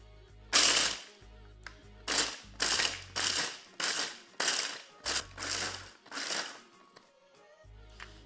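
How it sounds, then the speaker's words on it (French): A food processor pulsing nougatine into small grains in short bursts, about nine brief whirring, rattling pulses with pauses between, close and loud with no talk. "on va la mixer très légèrement par petits à-coups pour avoir des petits grains"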